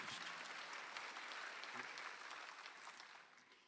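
A church congregation claps together during a Sunday afternoon service, a faint, dense patter that holds steady and then eases slightly toward the end, with no voice over it.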